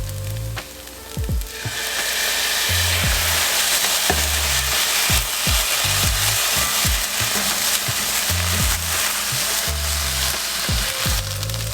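Fried rice with soy sauce and green onions sizzling loudly in a hot pan, with a steady frying hiss and repeated scraping, knocking strokes of a utensil stirring through it.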